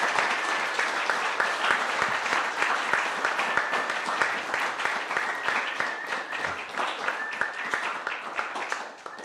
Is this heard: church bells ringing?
no